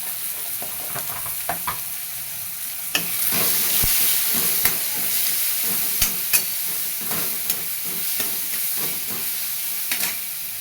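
Vegetables with tomato and a pinch of turmeric sauté in a hot pan, a steady loud sizzle and hiss broken by frequent scraping stirs and clinks throughout, with no voices.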